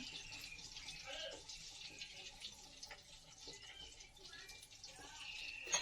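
Water poured into a bowl while preparing pecel with tempeh, a steady soft splashing trickle that runs continuously at moderate to low volume.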